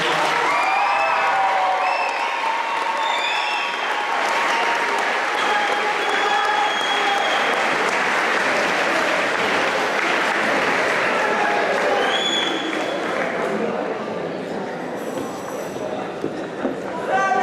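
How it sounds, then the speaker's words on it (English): Audience applause for a Wall of Fame award inductee at a school athletics ceremony, a long, steady roar of clapping with scattered voices and whoops underneath, continuing at full strength before tapering slightly near the end. "Can we get a round of applause for her?"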